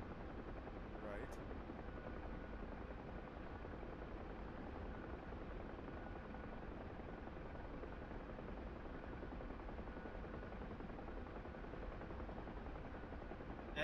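UH-1H helicopter flying in a combat flight simulator over rugged Caucasus terrain: a steady, dense rotor and engine drone fills the scene at an even level throughout, with radio chatter in the background.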